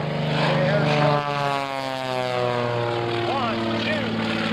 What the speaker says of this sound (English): Rolls the airplane around and brings Samson back.